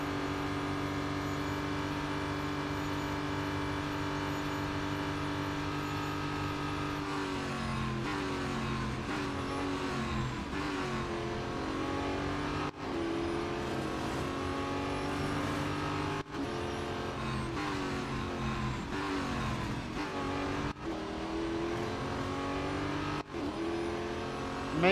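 Race cars in Real Racing 3 give a continuous, loud engine drone with gear-shift pitch sweeps and repeated revving during a multi-lap race, and the sound stays steady throughout.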